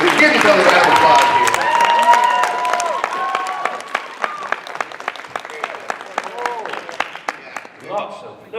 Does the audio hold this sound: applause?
yes